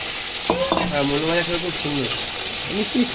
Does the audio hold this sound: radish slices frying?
yes